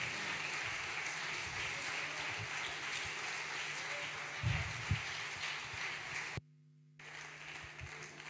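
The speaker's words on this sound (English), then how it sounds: "Continue to clap for the Lord Jesus." A church congregation at a parish convention claps steadily for the Lord Jesus, a dense, even wash of many hands sounding at a distance, briefly cutting out near the end before resuming.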